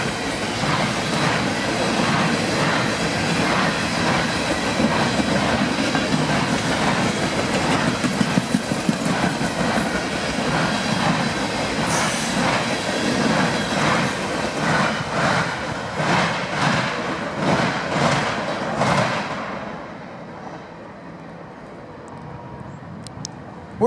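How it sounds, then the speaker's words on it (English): A long Norfolk Southern, Union Pacific and CSX freight train with Tropicana cars at the end rolls past close by, steady rumble with rhythmic clickety-clack of wheels over rail joints, fading as the last cars pass. "They got a whole Tropicana train on the end of this train."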